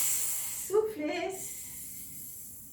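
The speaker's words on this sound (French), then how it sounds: "C'est là, on vide l'air." A single slow, breathy exhale during a breathing exercise, close and soft, a hiss lasting about a second against a quiet background.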